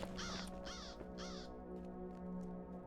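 In the online game LOTRO, three harsh crow caws ring out in quick succession near the start, followed by a low game hum with no talk.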